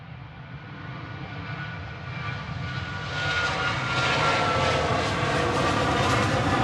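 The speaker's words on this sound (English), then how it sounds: "Just about to take off in parallel is Ryanair going to Nantes" A Ryanair jet takes off at Manchester Airport, its engine roar building steadily into a loud, sustained rising whine and rumble, with no talk over it.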